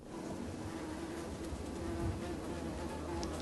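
Honey bees buzz in a dense, continuous hum of many wings, steady and fairly faint with no voices.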